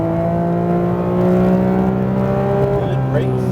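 A Porsche GT3 RS at speed on a track during a high-performance driving session gives a loud, steady engine drone close by that climbs in pitch toward the end as the throttle opens, with voices faintly under it.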